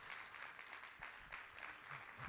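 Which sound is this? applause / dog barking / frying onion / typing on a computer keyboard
applause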